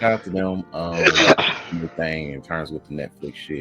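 A single sharp sneeze bursts out over steady conversational talk, overlapping the speaker's voice for about a second before the chat carries on.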